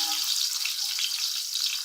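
Chopped small onion sizzles steadily in hot oil for kadhi pakora, a bright, continuous frying hiss heard up close with no one talking.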